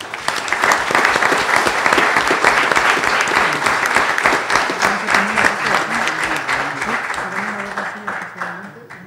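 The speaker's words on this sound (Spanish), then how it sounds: "Pido un aplauso, por favor, para Sonia Mesa Morales." An audience at a genealogy panel honoring Sonia Mesa Morales gives sustained applause, loud rhythmic clapping from many people that gradually tapers off, with a voice speaking faintly underneath in the second half.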